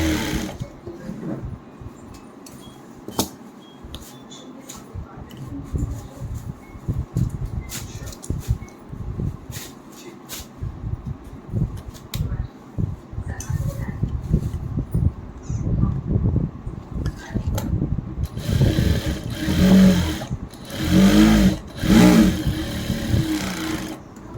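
A sewing machine stitches two seam lines on a pair of pants, running in bursts of rapid whirring and clattering with short pauses, growing louder and denser toward the end.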